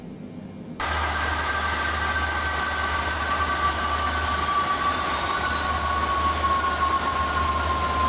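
Boeing 777 engine starting in Microsoft Flight Simulator 2020, a steady broadband rush with a low drone and a faint whine gliding upward, continuous and fairly quiet, heard alone after a brief quieter opening.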